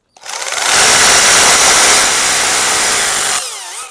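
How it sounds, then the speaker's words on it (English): A power drill bores into a wall while mounting an IP68 waterproof solar motion-sensor security light outdoors, a loud steady high-pitched whine running about three seconds alone, starting and stopping abruptly. "drill"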